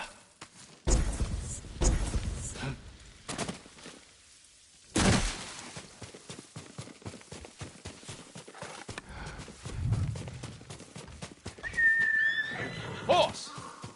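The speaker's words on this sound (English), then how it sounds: "Horse!" A horse neighs and whinnies amid hoof clip-clops and scattered movement sounds, with a couple of loud bursts and a sharp whinny near the end, mixed with some speech.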